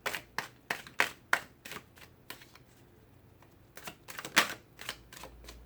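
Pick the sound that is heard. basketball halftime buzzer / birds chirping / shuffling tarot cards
shuffling tarot cards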